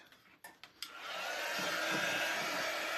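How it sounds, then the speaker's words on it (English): Hair dryer blowing on a freshly painted wooden standing cutout, starting after a few short knocks and settling into a steady, loud, close-up whoosh that fills the rest of the moment alone. "I'm going to hit it with the dryer real quick"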